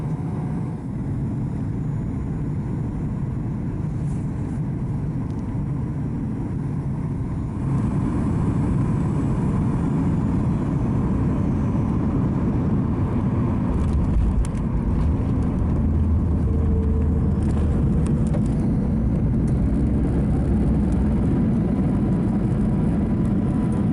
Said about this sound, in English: we started our descent and arrival into runway 26 in Kitchener-Waterloo